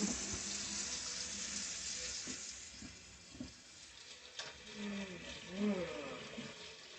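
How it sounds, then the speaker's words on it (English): Hands washed under a running kitchen tap, steady splashing water flow with some rubbing and light clatter, close by, with brief talking partway through. "I'm gonna give my hands a quick wash."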